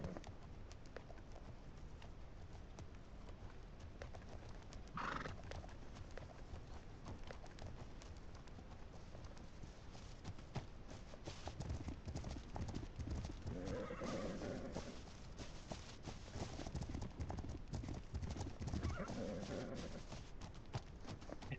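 Horse hooves clip-clopping with whinnies and neighs in The Legend of Khiimori, a steady hoofbeat texture running throughout with louder snorting calls rising near the middle and end, no talk.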